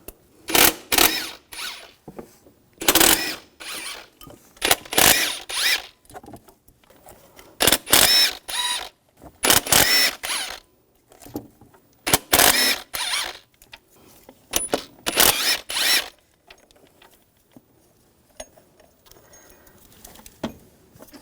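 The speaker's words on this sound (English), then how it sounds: "I'm gonna take the bolts out. I'm gonna use a T45 socket." A ratchet fitted with a T45 socket backs out water pump bolts on a 2006–2010 BMW 550i engine, giving close, crisp bursts of rapid clicking, repeated many times with brief pauses between strokes before trailing off.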